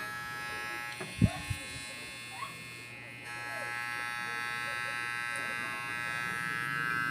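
A steady electric hair clipper motor with a loose motor screw hums continuously at moderate loudness after a few brief handling clicks and knocks near the start.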